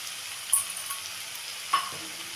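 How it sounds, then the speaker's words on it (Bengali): Potatoes frying in a pan with diced tomato, a steady soft sizzle broken by two sharper stirring clatters, close and alone with no voices. "তো আলুটাকে খানিকক্ষণ ভেজে নিলাম। এখন দেবো একটা ডুমো করে রাখা টমেটো"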